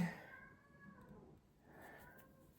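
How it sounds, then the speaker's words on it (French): A cat meows twice, faint and somewhat distant, the drawn-out cries separated by a brief quiet gap over low room noise. "J'entends mon chat qui miaule."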